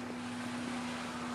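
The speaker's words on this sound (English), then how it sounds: "Sound of some engine." Engine running near a creek in the Sacred Valley at Urubamba, Peru, heard as a steady low droning hum with a constant tone, moderately faint and unchanging, with no voices.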